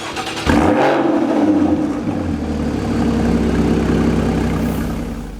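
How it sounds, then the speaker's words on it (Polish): A Porsche Cayman 981 with an aftermarket exhaust and its exhaust flaps open is revved hard nearby. A sharp, loud blip sweeps up and falls away, then settles into a deep, booming drone that holds to the end. "Na pierwszy ogień w aucie oczywiście poszedł układ wydechowy, przez co na otwartych klapach jest naprawdę potężna awantura."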